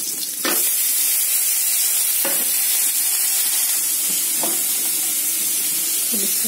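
Papaya flowers fry in hot oil in a pan over a low gas flame, giving a steady bright sizzle with occasional soft stirring scrapes punctuating the hiss throughout.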